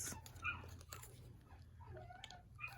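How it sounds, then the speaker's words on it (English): A dog whimpers and yips faintly in the background indoors, soft intermittent whines over a low steady hum. "sorry about the dog in the background"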